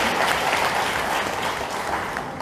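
A crowd at a political rally in Mali breaks into dense, sustained applause, loud and even for a couple of seconds before easing slightly.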